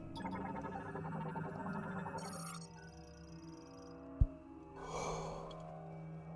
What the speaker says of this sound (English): That was another yawn.